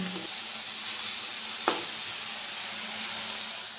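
Spinach frying in a pan over a high flame gives a steady, soft sizzle, joined by one sharp clatter of a utensil partway through, with no voices.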